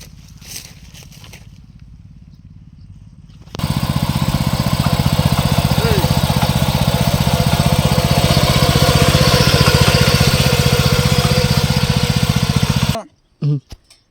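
A small power weeder engine runs loud and steady for several seconds after starting up, a continuous buzzing drone that cuts off abruptly near the end.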